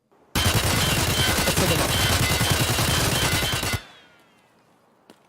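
An unmodified AK rifle fires a long, continuous full-auto spray in Escape From Tarkov, loud rapid shots for about three seconds before cutting off into a fading echo; a voice speaks briefly.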